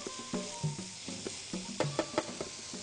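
Slices of smoked chicken and mortadella sizzle gently in a frying pan, with soft stirring scrapes and taps recurring under a steady low hiss.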